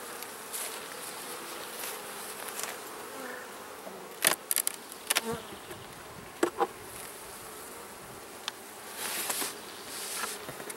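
Honey bees buzz steadily around an open hive during an inspection, a constant close swarm hum with louder passes of individual bees and occasional sharp knocks or clicks from handling.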